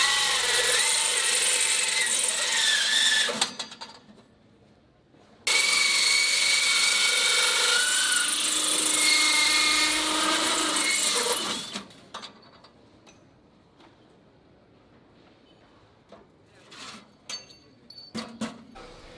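Power drill boring holes into an electrical panel at an apprentice electrician competition, two sustained bursts of high whining drilling separated by a short gap, then quiet with faint clicks and handling noises.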